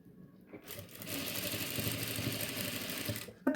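Sewing machine stitching nighty cloth, a close, steady whirring run of stitches lasting about three seconds, ending with a click.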